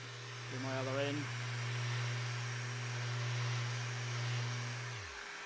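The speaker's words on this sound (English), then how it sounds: "You can hear the dust extractor in the background." A dust extractor hooked up in a woodworking shop runs as a steady, low, continuous hum for several seconds, briefly rising in pitch near the start before spinning down at the end.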